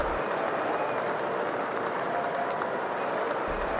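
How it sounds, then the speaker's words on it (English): A dense crowd applauds steadily at a professional tennis tournament trophy presentation, the sustained clapping filling the air evenly from start to finish without a break. "And just listen to the crowd."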